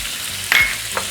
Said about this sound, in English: in the same oil, we're going to cook our meat. So throw in your meat, along with all of our spices.